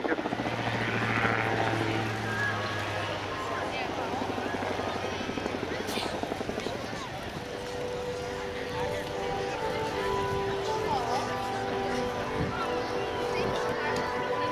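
An Air Total Calidus autogyro performs a flying display at the Air Waves Portrush air show, its propeller engine droning steadily at a distance while a commentator talks over it throughout.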